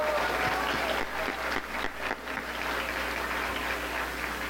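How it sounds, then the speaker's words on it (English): Crowd at a university welcome convocation claps for the freshman class, dense sustained applause with a slight dip in the middle. "Another round of applause for our freshman class."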